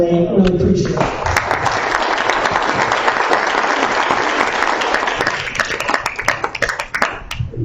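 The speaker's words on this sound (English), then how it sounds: "Another round of applause for him." A conference audience at a blockchain summit breaks into steady, full applause right after a brief bit of speech, then thins toward the end into scattered, separate claps.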